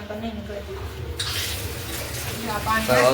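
A tap running at low flow while an automatic washing machine is brushed clean during deep cleaning, a steady close splash and gush of water under a speaking voice, growing slightly louder toward the end.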